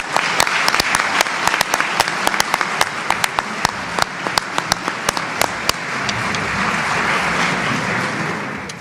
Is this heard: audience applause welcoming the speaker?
yes